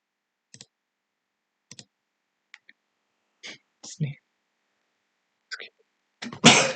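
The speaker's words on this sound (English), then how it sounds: "just went for a quick sneeze" Scattered faint clicks lead into a short, sharp sneeze at the end, close and loud after near silence.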